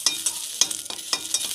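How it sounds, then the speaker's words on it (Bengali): Slit green chillies frying in a pan, giving a bright, steady sizzle with a few quick stirring scrapes at a regular pace, close up and without talk. "কাঁচা লঙ্কাটা আমি প্রথমে আমি চিড়ে চিড়ে রেখেছিলাম, এখন ভেজে নেব"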